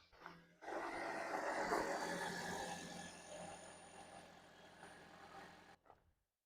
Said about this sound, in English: start the car and make sure there's no error codes